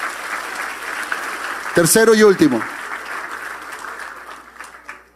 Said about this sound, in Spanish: dele un fuerte aplauso al Rey de Reyes y Señor de Señores